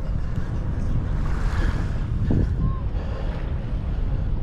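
A motorboat engine drones on Manila Bay, a low steady rumble beneath heavy wind buffeting and splashing water, with faint voices in the background.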